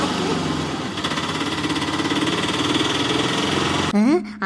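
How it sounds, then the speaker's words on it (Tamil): A small auto rickshaw engine putters steadily with a rapid, rattling idle, close by and continuous; a brief voice-like pitch sweep comes near the end. "ஏதோ ஆட்டோ சத்தம்"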